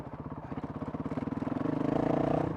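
Honda CRF 450 RL dirt bike coasting in second gear with no throttle or clutch, its engine putting out a steady rhythmic thumping that gradually grows louder and denser, close up.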